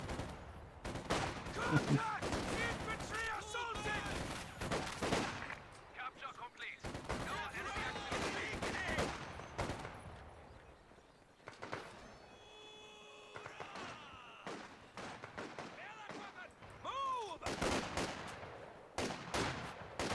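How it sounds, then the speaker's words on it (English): MG42 machine gun fire in a multiplayer video game match: repeated rapid bursts of automatic gunfire with scattered other shots, mixed with background battle noise throughout. "My god, that is some range that MG42 has."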